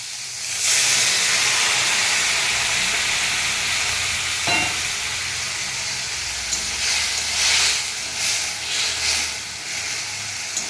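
Water hits bitter gourd frying in a little oil, setting off a loud, sustained hiss of steam and sizzle that keeps bubbling and flaring unevenly until the end.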